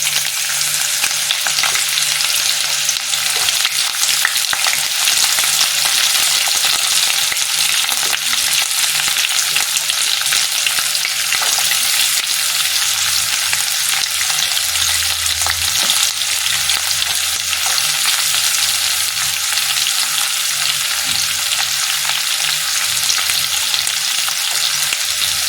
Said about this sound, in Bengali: এবার ঢালছি আমি পেঁয়াজ কুচি।